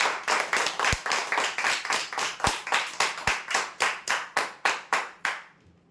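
A crowd claps for the office chair prize winner at a weekly lucky draw, a steady burst of many hands that runs a few seconds and fades out at the end, with no talking.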